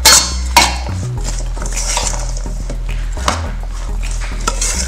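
Spoon scraping and clinking against a bowl while vegan unchicken salad is mixed, with a steady run of close, moderately loud stirring knocks and scrapes and a few sharper clinks.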